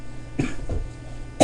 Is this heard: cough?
yes